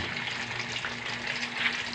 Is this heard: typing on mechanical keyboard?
no